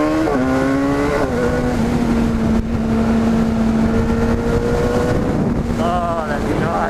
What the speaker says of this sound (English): Love this freaking engine. Freaking hell, BMW did a good job on this engine